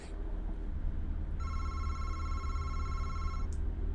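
An electronic telephone bell rings in the horror video game MADiSON, a bright steady ring lasting about two seconds over a low humming ambience, and a short second burst starts right after.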